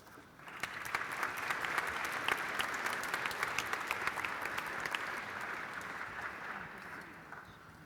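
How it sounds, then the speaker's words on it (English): A banquet audience at a tribute dinner gives sustained applause for honorees, a dense wash of many hands clapping that swells quickly and holds steady for several seconds before slowly thinning. "2013 3G honorees a round of applause"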